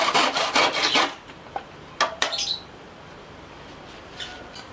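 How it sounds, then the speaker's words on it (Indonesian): A small Hasston hand saw cuts through bamboo in several quick rasping strokes for about a second, followed by a couple of sharp knocks and then near quiet. "asli ini sangat nyaman untuk memotong bambu."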